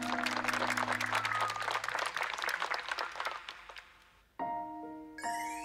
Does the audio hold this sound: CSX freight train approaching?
no